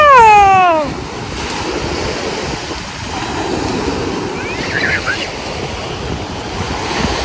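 Ocean surf at a Miami, Florida beach washes in continuously under strong gusty wind buffeting the microphone, with a brief high whistling chirp at the very start.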